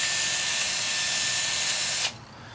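A power drill resharpens an Olfa rotary cutting blade with a steady, loud whirring grind that runs for about two seconds, then cuts off abruptly, leaving a faint hum.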